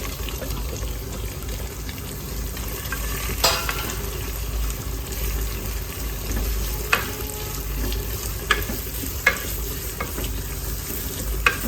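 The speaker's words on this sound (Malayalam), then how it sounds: "ഒരു സവാള അരിഞ്ഞത് ഒരു മൂന്ന് പച്ചമുളകും അരിഞ്ഞത് അതും ഇട്ട് കൊടുക്കേ" Chopped onion and green chillies fry in a pan for a chicken and tapioca masala, a steady close sizzle with stirring and a few sharp clinks of a spoon against the pan.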